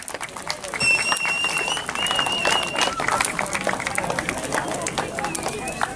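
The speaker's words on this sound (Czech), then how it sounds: "Poprosím potlesk, ideme na to" Outdoors at a village bonfire celebration in Veľké Pole, a crowd claps loudly and continuously for several seconds, with shouts, chatter and a few high whistles mixed in.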